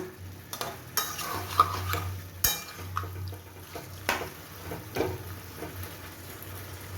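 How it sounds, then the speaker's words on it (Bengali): Chicken is stirred in a pan over high heat, with a soft sizzle of frying under repeated scraping and clinking strokes of a utensil against the pan. "আমি চিকেনটাকে হাই হিটে এক থেকে দেড় মিনিট ভালো করে নাড়াচাড়া করে নেব"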